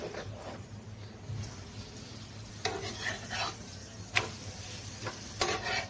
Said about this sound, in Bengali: বাটার লাগিয়ে লাগিয়ে এবার আমি সবগুলো পরোটা করে নিব।